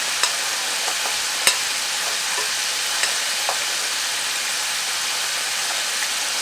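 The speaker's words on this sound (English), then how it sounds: "So once you got your sauce in there, you start to stir it up a little bit." Chicken wings being stirred through sauce in a pan, giving a steady, even hiss broken by a few sharp utensil clicks and scrapes, with no talking.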